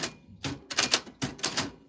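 Typewriter keys clatter in quick irregular bursts, several clustered strikes with short gaps between, close and crisp.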